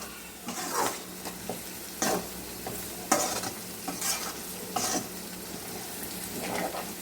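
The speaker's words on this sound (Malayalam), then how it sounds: "ഇനി പുളിവെള്ളം ഒഴിക്കുകയാണ്." Tamarind water is poured into a hot pan of kanthari chili pickle and stirred. Close, repeated bursts of sizzling and spattering rise and fall over about seven seconds, with intermittent scraping from the stirring.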